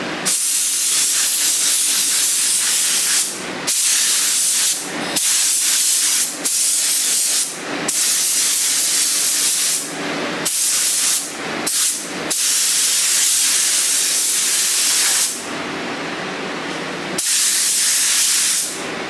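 A spray gun paints a car with loud, close hissing bursts of several seconds each, broken by brief pauses between passes.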